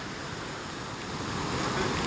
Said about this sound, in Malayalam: ഇത് ഒരു പുഴയല്ല കേട്ടോ ഉരുൾപൊട്ടിയിട്ട് പിന്നെ രൂപപ്പെട്ട ഒരു പുഴയാണ്